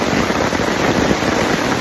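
Rain pours steadily onto a forest campsite in Kaeng Krachan National Park, Thailand, a dense, even hiss of droplets pattering close by, with no voices.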